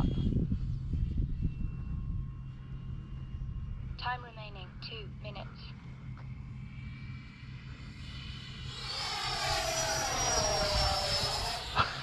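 A Freewing Avanti S RC jet flies past with a steady distant howl that swells into a rising high whine toward the end, while someone talks over it.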